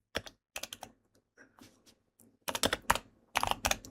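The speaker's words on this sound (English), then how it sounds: "Having a hard time typing." Bursts of quick, clicky keystrokes on a computer keyboard come in short irregular clusters with brief pauses between them, close and clear, with no talking.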